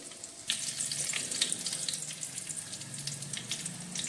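Ajwain, fennel seeds and torn curry leaves roasting in a pan over low heat, giving a soft, continuous crackling sizzle with scattered small pops, close and steady without voices.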